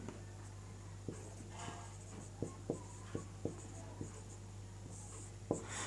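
Chalk taps and scrapes on a board while writing out a Sanskrit translation exercise in a lesson, a series of sharp knocks spaced irregularly over a quiet room hum.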